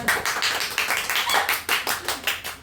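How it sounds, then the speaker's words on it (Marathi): Hands clap about a dozen times in a quick, slightly uneven rhythm, close and fairly loud, at a family occasion at home. "टाळ्या वाजव."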